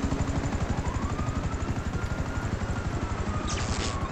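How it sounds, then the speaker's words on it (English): Helicopter in a video game, close and loud, its rotor chopping in a fast, steady rhythm with no talk over it. "Right under the helicopter."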